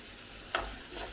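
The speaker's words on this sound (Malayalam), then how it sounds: "ചുവന്നുള്ളി എല്ലാം നല്ലപോലെ മൂത്ത് വരണം" Shallots frying with curry leaves in a pan, a steady soft sizzle with a brief louder crackle and stir partway through, close and alone without talk.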